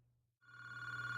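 A telephone rings with a steady electronic tone that starts abruptly after a brief low hum and holds loud and continuous to the end.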